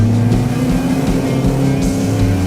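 Animated race cars, including Lightning McQueen, roar side by side in a loud, steady, high-revving engine drone, with a slight swell of a passing car near the end.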